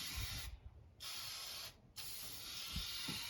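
Chevy orange spray paint hisses from a aerosol can in three close bursts, the loud spray broken by brief pauses, with faint thuds underneath.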